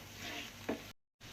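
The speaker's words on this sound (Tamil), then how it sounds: "மசாலாவை எண்ணெயிலே கொஞ்சம் நல்லா வதக்கி விட்டுக்கோங்க." Masala sizzling and being stirred in hot oil in a pan for Tamil-style egg podimas, a steady close frying hiss with one brief louder scrape, then a short cut to silence before the sizzle resumes.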